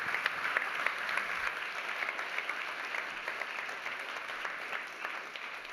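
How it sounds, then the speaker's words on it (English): Steady applause from a conference audience at an AI summit, a dense even patter of clapping held at moderate distance for several seconds with no voices over it. "give a huge round of applause for Ahmad."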